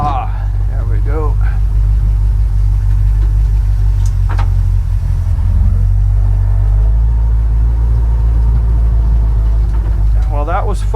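A 1957 Power Wagon drives off-road with a loud, steady low engine rumble throughout, close by, and someone talks briefly over it.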